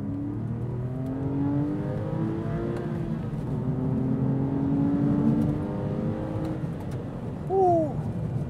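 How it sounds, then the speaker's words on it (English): A 2006 Porsche 911 Carrera S (997) flat-six engine pulls through the gears while driving, with rising engine notes, a shift, and more climbing revs, heard from inside the cabin at moderate level. "I gotta start off with this amazing engine."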